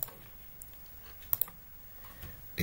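Mouse clicks while drafting a roof design in AutoCAD: a few sharp, isolated clicks, two close together in the middle and one at the end, fairly faint over a quiet room hum.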